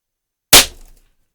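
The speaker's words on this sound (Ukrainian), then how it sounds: "Ну що ж, перший постріл." A single sharp gunshot from a Polikarpovich Flobert 4mm Kurz pistol, loud and close after silence, followed by a short fading ring.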